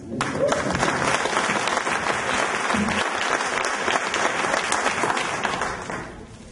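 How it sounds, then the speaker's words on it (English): Audience at a mayor's state of the city address in Lincoln City, Oregon breaks into loud sustained clapping, a dense close crowd applause that holds steady for about six seconds and fades at the end. "I think she deserves a round of applause."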